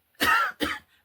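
Two quick, harsh coughs follow one another closely, near and fairly loud, with no speech around them.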